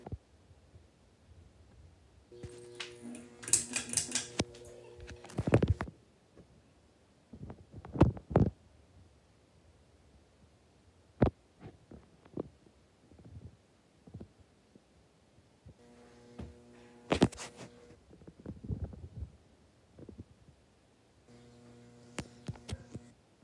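A Menards Turn of the Century Eros 42-inch ceiling fan runs noisily in a house, with a low throbbing hum and bursts of rattling, buzzy noise that come and go, scattered with sharp clicks. There is no talking.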